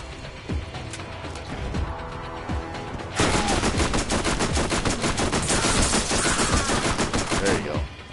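Automatic gunfire in the shooter game Borderlands, sporadic shots at first, then a dense sustained burst of rapid fire that stays loud until near the end, with little talk.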